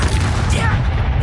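Bombarda blasting spell exploding in the Hogwarts Legacy video game, a loud booming blast with rumbling crackle, a voice speaking over it.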